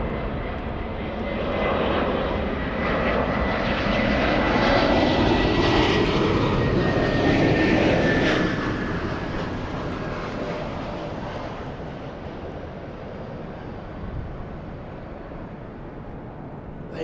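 A Frontier jet arrives at LAX on its flight from JFK, its engine roar swelling as it nears, peaking mid-pass, then fading slowly into a lingering rumble without talk.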